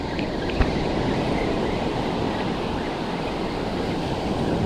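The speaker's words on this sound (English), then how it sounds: "Much rougher conditions today. Wind's blowing straight in from offshore." Rough surf pounds a beach in strong onshore wind, a steady loud roar of waves and wind noise with no talking.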